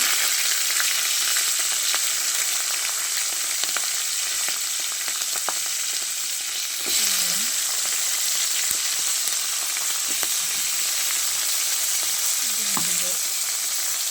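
Greens with five-spice seeds and green chilies sizzle steadily in a pan, a loud continuous frying hiss broken by occasional scraping stirs.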